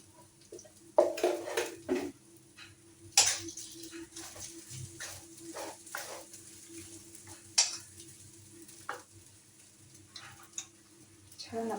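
Sabudana khichdi is stirred in a pan at close range, a spoon scraping and clinking against the metal in irregular bursts with soft sizzling underneath.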